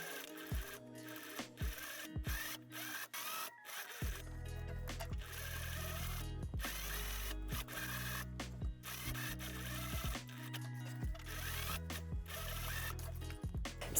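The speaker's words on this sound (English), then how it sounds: "And now we can go ahead and sew from the waist seam all the way over the neckline" A sewing machine stitches a dress seam from the waist over the neckline in bursts of rapid mechanical whirring with short pauses between, close and steady, no voices.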